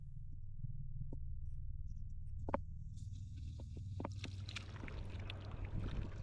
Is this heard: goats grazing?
no